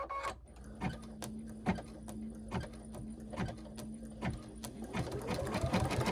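An embroidery machine stitches an in-the-hoop potholder, running in a fast even rhythm of clicking needle strokes over a steady motor whine, close and clear throughout.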